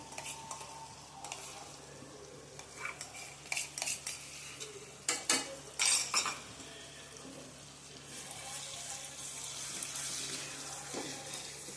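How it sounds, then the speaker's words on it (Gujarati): Onion puree going into a pan for paneer butter masala, with a few sharp clinks and scrapes of a spoon against the pan around the middle over a low, steady sizzle that swells toward the end; no talking. "હવે આપણે આ ડુંગળીની પ્યુરી નાખી દઈશું।"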